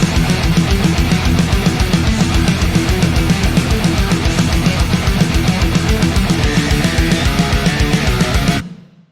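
Dense, loud metal mix with guitars run through Neural DSP plugins and their filters switched off: heavy distorted rhythm guitar with pounding drums playing continuously, ending with a short ringing tail.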